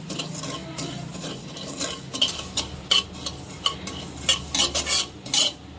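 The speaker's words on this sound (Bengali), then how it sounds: "পোস্তটা একটু হালকা রোস্ট করে নেব, তাতে করে পোস্তর স্বাদ দ্বিগুণ বেড়ে যাবে।" Poppy seeds being lightly dry-roasted in a pan, a spoon scraping and stirring them in quick, repeated bursts over a soft background hiss, close and fairly quiet.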